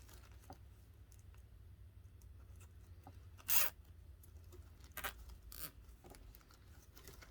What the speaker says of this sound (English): and just zip tie this down.